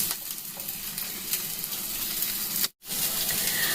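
Low-flame frying in oil, butter or ghee gives a steady soft sizzle and crackle throughout, close and even, with one brief drop to near silence.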